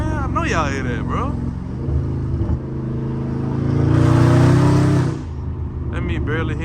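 Dodge Charger Scat Pack V8 engine idling with a low rumble, then swelling louder for about a second as the gas is pressed lightly before settling back. Someone talks over the engine at the start and the end.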